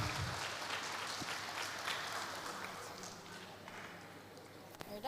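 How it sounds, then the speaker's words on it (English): A conference audience claps in steady, sustained applause, dense and even throughout, with some voices mixed in. "Give a big applause, everyone."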